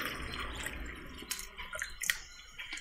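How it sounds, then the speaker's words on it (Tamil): Water splashes and trickles steadily into a clay pot, with a few brief drips and splashes, close by and moderately loud. "இப்போது இதில் இது ஃபுல்லாக தண்ணி ஊற்றிக்கலாம்"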